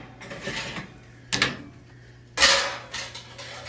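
Metal clatter and scraping as a pan is pulled from an oven, with a few clanks and a louder rattle near the end over a low hum.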